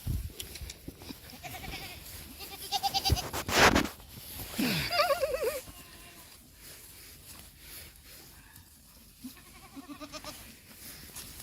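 A goat bleats several times on a snowy farm, the loud wavering calls clustered in the first half, with fainter bleats later over quiet outdoor background.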